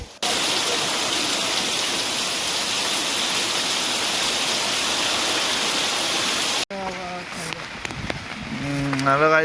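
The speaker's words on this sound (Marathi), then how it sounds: "पाऊस एकदम जोरदार आहे" Heavy monsoon rain pours down in a village in a steady, dense roar, then a voice briefly cuts in over the rain near the end.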